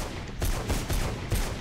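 Bursts of gunfire in the video game Mirror's Edge, several quick loud shots in a rapid irregular volley over about a second and a half, dense and close with no talk over them.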